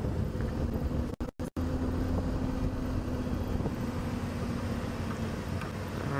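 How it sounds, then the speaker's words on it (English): Steady wind buffets the microphone outdoors at sunrise, a continuous low rumble with a few abrupt dropouts and no talking. "the wind is blowing quite a bit here too"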